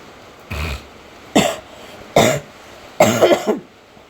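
Four separate coughs come close to the mic, evenly spaced, the last one longer and rougher, with quiet pauses between them.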